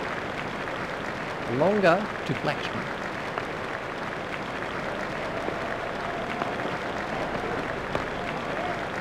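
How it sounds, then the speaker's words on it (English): A cricket crowd applauds VVS Laxman's century during a Zimbabwe vs India one-day international. The applause is steady and fills the whole stretch, with a commentator talking over it. "Laxman raises his bat to the crowd to acknowledge the applause"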